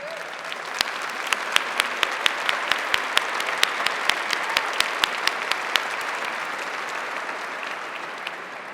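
A crowd applauding members of the San Francisco Fire Commission at a fire chief's swearing-in ceremony, with sustained clapping and sharp individual claps standing out near the microphone, fading slightly toward the end.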